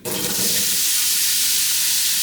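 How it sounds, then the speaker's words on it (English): Onions dropped into a hot pan burst into a loud, steady sizzle right up close, a bright hiss that starts abruptly and keeps going with no talk. "So here are the onions and we'll put them in."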